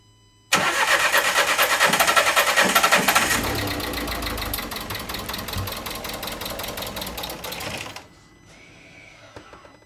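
A 2013 Renault Scenic III 1.5 dCi diesel with an injector fault cranks and catches, then runs with a steady, close clattering idle for about seven seconds before cutting off abruptly.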